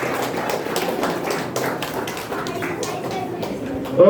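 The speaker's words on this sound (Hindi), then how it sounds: "बहुत जोरदार ताली, बहुत जोरदार ताली।" Applause from a crowd at a celebration, with brisk, close clapping that runs steadily under background voices before ending with a short loud burst.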